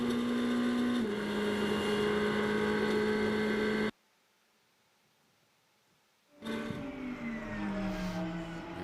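Ferrari GT race car at speed at Watkins Glen in a Blancpain GT World Challenge America race, a loud sustained engine whine with shifting pitch, cut off by a gap of near silence before returning.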